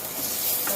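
Onions stir-frying in a wok, a close, steady sizzle with faint scraping as they are stirred, heard alone without talk.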